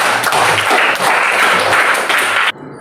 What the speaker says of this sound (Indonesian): Beri tepuk tangan untuk Aulia.